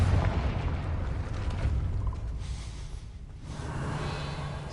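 A Confringo blasting spell erupts in Hogwarts Legacy, a loud deep rumbling explosion with a heavy low boom that rolls on and slowly fades.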